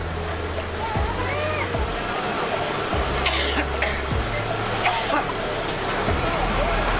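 Golden Dragon engine of an intercity bus idling with a steady low rumble, passengers boarding and people talking nearby amid background traffic.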